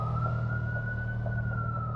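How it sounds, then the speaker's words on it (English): Emergency vehicle siren holding a steady, slightly rising tone over a low engine rumble, moderately distant and continuous, with no talking. "the sirens started to scream"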